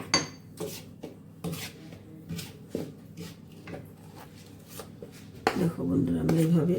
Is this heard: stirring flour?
yes